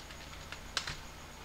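Someone types a short command on a Windows computer keyboard: a few quiet key taps followed by two sharper clicks close together, close and faint over a low background hiss.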